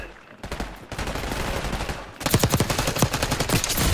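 Rapid automatic gunfire in a Black Ops 6 multiplayer match, starting with a few scattered shots and then breaking into a dense, loud burst of repeated rounds near the listener.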